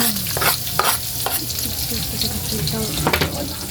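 Garlic sizzling and frying in a pan while being stirred for pork binagoongan, with scraping strokes over a steady close sizzle.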